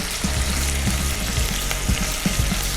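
Chopped liver for a kosher dish sizzles and fries steadily in a hot pan, with scraping and light clanks as the pieces are turned, continuous and close with no talking.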